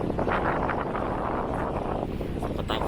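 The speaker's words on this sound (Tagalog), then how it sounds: "Start na namang lumakas ang hangin." Strong wind at a tilapia farm roars and buffets the microphone continuously, loud and rough, with no clear voices.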